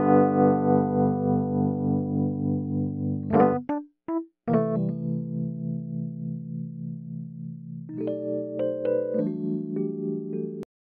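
Rhodes electric piano before analog desk processing, playing sustained chords loudly alone, with a brief break and staccato stabs midway, then resuming full chords with a shift higher near the end.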